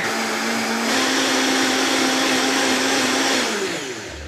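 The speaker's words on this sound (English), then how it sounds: "You always start slow if you have a blender with many speeds, and then you build up speed, and that way everything gets mixed in." A blender mixes a chicken marinade. Its motor whine steps up in pitch as the speed climbs, then holds as a loud, even roar before easing off near the end.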